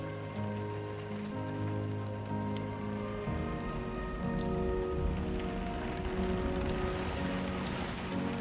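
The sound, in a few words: rain falling in video game Death Stranding 2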